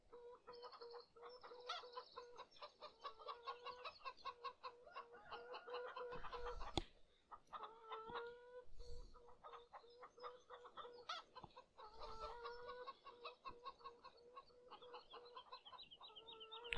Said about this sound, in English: Chicken all sound the same.